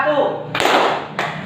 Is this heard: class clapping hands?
yes